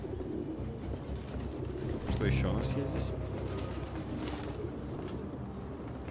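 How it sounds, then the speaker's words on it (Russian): Pigeons coo softly in the background of the video game Detroit: Become Human, a low murmuring coo under someone speaking Russian and ambient game sound. "Голуби."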